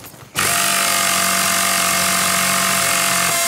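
A power tool repairing a vehicle in Battlefield: Bad Company starts abruptly and holds a loud, steady mechanical whir with a droning tonal buzz, close and unbroken.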